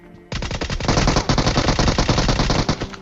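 Automatic gunfire in the PUBG video game, a loud sustained burst of rapid shots starting abruptly after a brief quiet moment and continuing without pause, close and dense, with no talking.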